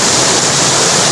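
River water rushing steadily at Gabas in Buhi, Albay, a loud, dense, continuous flow close by with no talking.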